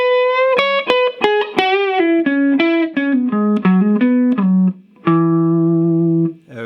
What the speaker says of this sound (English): we're going to play this beautiful descending line in that G position of the major pentatonic scale